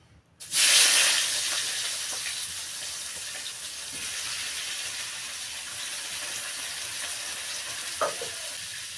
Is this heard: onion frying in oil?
yes